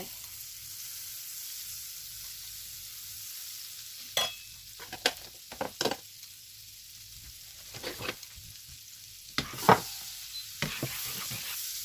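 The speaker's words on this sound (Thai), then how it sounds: "ใส่เนยเข้าไป" Salted butter sizzling in a pan for a black mushroom pie, a soft steady hiss with scattered sharper crackles and a few stirring scrapes, faint and close with no talking.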